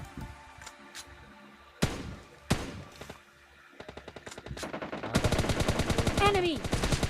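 Gunfire in the battle royale game PUBG: scattered single shots at first, then dense rapid automatic bursts building toward the end, loud and close, with a voice talking over it.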